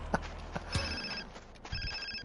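A trilling phone ringtone sounds in GTA San Andreas Definitive Edition, repeating in short bursts at moderate volume over game background noise and faint footsteps.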